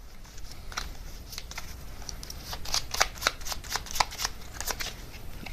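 A deck of tarot cards being shuffled up close, with repeated crisp riffling and flicking bursts that grow busier toward the middle, fairly quiet with no speech.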